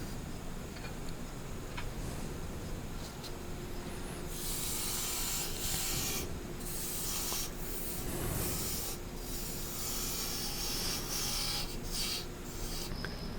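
Sandpaper rubs against a spinning cork oak lidded box on a wood lathe, a steady close rasping hiss with a constant motor hum underneath, intensifying partway through.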